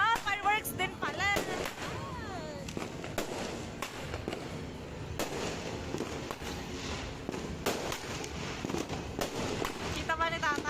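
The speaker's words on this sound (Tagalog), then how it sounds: "Paputok. Fireworks din pala." Sharp firework and firecracker bangs burst repeatedly and irregularly over a steady crackling din at a Christmas and New Year celebration, with whistling rockets near the start and end; voices murmur faintly underneath.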